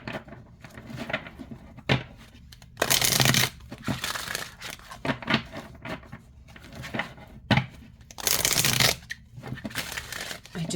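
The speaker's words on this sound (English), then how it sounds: "I do want to try to shuffle it side by side" A large oracle card deck is shuffled by hand, giving bursts of papery riffling and rustling with quieter handling sounds between them, close and intimate.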